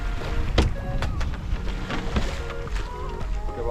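A sailboat under full sail with engines off at sea in the Pacific, water rushing and sloshing against the hull with wind noise and a few sharp knocks from gear aboard.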